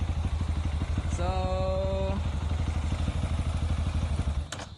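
Bored-up 274cc Kawasaki KLX trail motorcycle engine on a test ride, a loud close steady pulsing thrum throughout with a rising whine at one point, cutting off near the end.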